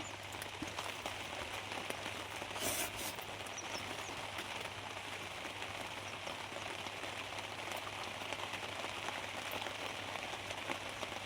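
Steady rain patters on a torn tarpaulin roof at a rural farm shelter, water leaking through it, an even dense hiss with a few brief louder splashes and no voices.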